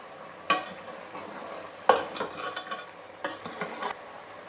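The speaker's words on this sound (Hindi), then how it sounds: "अब इन्हें अच्छे तरीके से हल करना है।" Spices for chicken malai handi being stirred in a pot, a few scraping stirs with light sizzling between them, close and moderately quiet, no voices.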